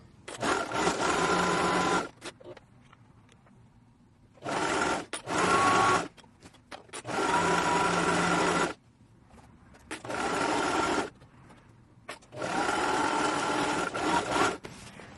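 Five sustained runs of sewing-machine stitching on a garment front panel, each one to two seconds long, separated by short quiet pauses. The whirring is close and steady.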